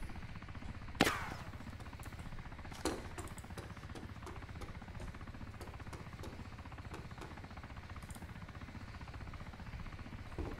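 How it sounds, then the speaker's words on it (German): A helicopter in the video game DayZ Origins drones in a steady low rotor chop, with a sharp gunshot early on and a few smaller metallic hits. "Da ist der Heli."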